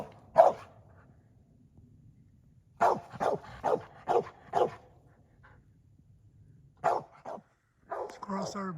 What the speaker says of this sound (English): Squirrel started barking